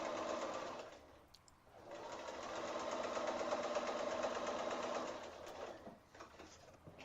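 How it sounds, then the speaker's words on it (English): A sewing machine stitching a quarter-inch seam on a scrappy four-patch quilt block, running in a short burst, pausing, then a longer steady whirring run before stopping, close and clear without talk. "we're going to just sew that seam there"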